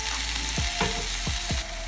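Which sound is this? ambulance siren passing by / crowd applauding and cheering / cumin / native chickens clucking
cumin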